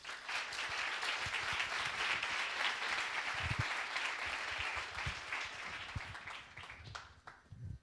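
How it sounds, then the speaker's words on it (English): An audience applauds at a game industry demo day presentation. Dense, steady clapping from a crowd fills the room, close and loud, then thins and fades toward the end. "Please, applause for them."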